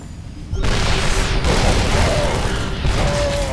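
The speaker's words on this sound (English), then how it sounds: "There are siege tanks deployed almost everywhere." StarCraft siege tanks fire and shells explode in a sudden loud blast that rolls into a sustained rumble of detonations, with a faint mechanical whine over the continuing battle.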